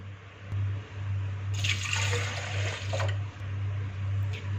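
Water poured in a steady stream into a jug for strawberry juice, a liquid pouring burst over a continuous low hum, with no talking.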